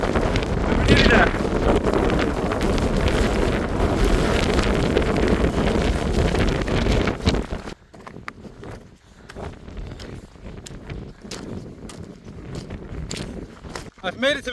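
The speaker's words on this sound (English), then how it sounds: "It's slightly windy" Strong wind roars across the microphone for several seconds near a whited-out mountain summit, then drops to gusty buffeting with crunching footsteps and a voice speaking.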